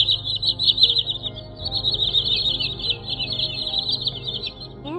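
A white-bellied sandpiper (choắt bụng trắng) gives a continuous high, rapid trilling twitter, close and clear over a low background hum, ending with a brief rising note.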